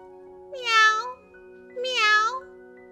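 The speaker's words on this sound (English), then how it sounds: "Cried the cat." A cat meows twice, each a clear, drawn-out call of about half a second, separated by a short pause over a faint steady hum.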